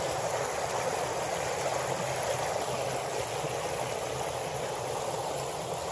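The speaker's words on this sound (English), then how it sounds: "Another little mini waterfall for you guys." Water spills over a small waterfall in a flooded creek, producing a constant broad rushing roar with light gurgling, close and steady throughout without pauses.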